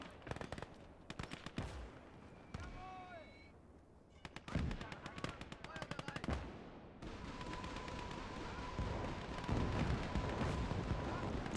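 Rocket artillery roars in Gates of Hell Ostfront, dense rapid volleys of launches and booms crowding together, loud and close, with a constant rumbling barrage building toward the end and a voice talking briefly.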